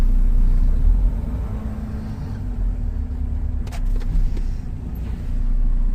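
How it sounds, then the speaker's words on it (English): A truck pulls forward at about 5 miles an hour and brakes to a stop during a service brake test, heard from inside as a steady low engine rumble with faint squeaks and rattles, no talking. "I'm going to pull forward and I'm going to stop the truck."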